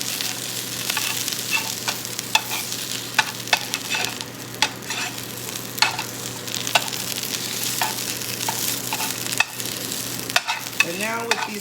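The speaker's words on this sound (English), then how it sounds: "So I'm gonna take my spatula and flip them over." Potato skins fry in a skillet under a steady sizzle as a spatula scrapes and taps against the pan in repeated sharp clicks while they are flipped.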